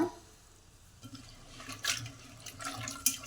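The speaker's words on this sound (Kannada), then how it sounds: "ಚೆನ್ನಾಗಿ ನೀರು ಹಾಕಿಬಿಟ್ಟು ತೊಳ್ಕೊತೀನಿ" Water splashes as chopped vegetables and field beans are rinsed in a vessel at home while cooking vegetable sambar, with soft sloshing and brief louder splashes near the end and no talking.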